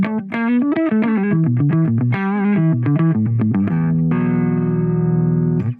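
An electric guitar runs through a JangleBox JB Nano compressor pedal on heavy compression settings, playing a quick run of clean, even single notes that settles into a sustained ringing chord, with no voices.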